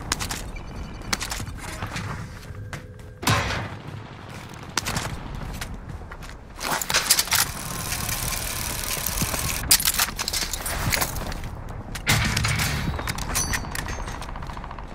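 Dense gunfire in Call of Duty Warzone on Rebirth Island, sustained bursts and rattling shots filling most of the stretch, with louder surges toward the middle and end.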